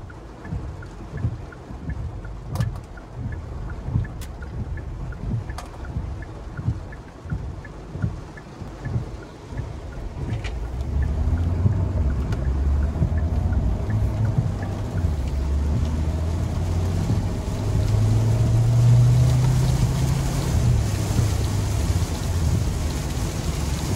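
A 2021 Kia Sorento Hybrid S driving in sport mode, heard from inside the cabin: a low engine and road rumble that grows louder and steadier after the first ten seconds, with a few faint clicks early on.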